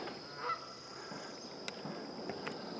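Geese honk faintly at a distance over a lake stopover site where ducks gather, a few scattered calls over a steady quiet outdoor background.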